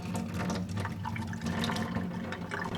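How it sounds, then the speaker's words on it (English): Rinse water draining off a batch of soaked adzuki beans, a steady splashing pour running continuously for a few seconds, close and fairly loud with no talking. "I'm going to rinse them and remove any that float. Okay, and now we're just going to drain this off."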